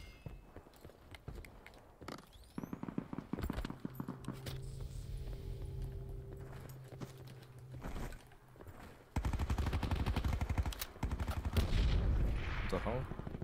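Gunfire in Call of Duty Black Ops 4 on the Alcatraz map, bursts of rapid automatic shots and single cracks, close and sharp, with steady game background noise.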